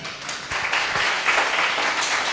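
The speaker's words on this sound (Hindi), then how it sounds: "आप ताली बजाए, बहुत अच्छा लगा" Audience applause in a hall during a Hindi talk, a dense steady wash of many hands clapping at moderate loudness throughout, with no voices over it.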